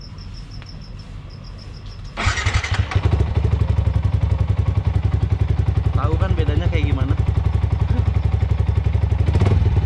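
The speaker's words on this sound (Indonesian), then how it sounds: "gue nyalain aja motor gue" A motorcycle fitted with a modified quiet exhaust starts up after a couple of seconds, then settles into a close, steady, rapidly pulsing idle. Someone talks over it.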